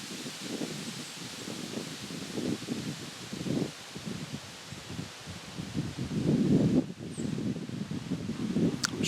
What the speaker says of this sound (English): but the wind is just ripping around.